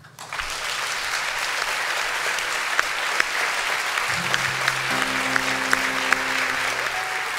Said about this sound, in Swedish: Ge en varm applåd till Sara Isaksson.